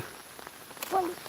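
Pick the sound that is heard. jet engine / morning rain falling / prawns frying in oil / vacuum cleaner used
morning rain falling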